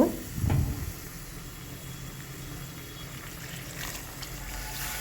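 Vegetables for a Bengali shukto sizzle in a hot pan as warm water hits them, a brief burst of hiss and bubbling at the start settling into a steady soft steam under occasional stirring.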